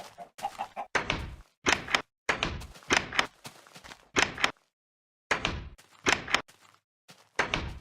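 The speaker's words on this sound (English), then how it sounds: "the chest at the time used to use the old door sound when you opened and closed it" Chest in Minecraft beta 1.8 opening and closing with the old door sound, heard as a quick run of about ten short, loud creaks and thunks in an uneven rhythm, close and alone.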